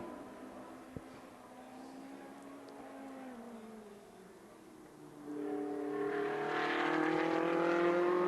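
A Ferrari race car in a 2016 Coppa Shell race exits the final turn at Hockenheimring and crosses the finish line, its engine note climbing and falling in pitch, then swelling louder as it nears, with a second car joining toward the end.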